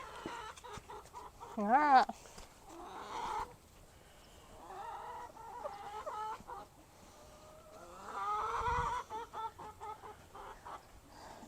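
Hens cluck and squawk in short bursts at close range, with a brief spoken word partway through and faint background rustling.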